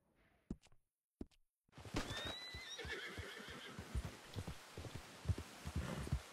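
Horse in Red Dead Redemption 2 gives a loud whinny, followed by steady clip-clopping hooves and snorting breaths that carry on close by to the end, after a few isolated thuds at the start.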